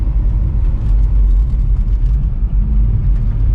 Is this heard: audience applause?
no